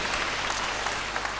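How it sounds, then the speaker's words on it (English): A church congregation gives a round of applause, a short burst of steady, fairly soft clapping over a low background hum. "Give me a round of applause."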